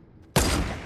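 A single loud shotgun blast in a shooter video game, an abrupt heavy boom that hits after a brief quiet moment and rings on with a sustained roar.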